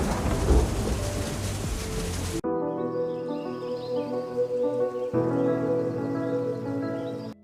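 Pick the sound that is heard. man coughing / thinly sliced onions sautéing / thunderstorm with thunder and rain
thunderstorm with thunder and rain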